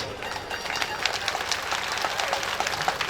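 A crowd at a Bhagavat Katha sermon claps together, a continuous rapid patter of many hands, fairly loud and even throughout.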